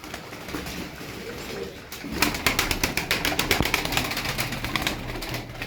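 Game pigeons of a high-level flying breed coo softly nearby, with a burst of rapid wing flapping partway through, and no talking.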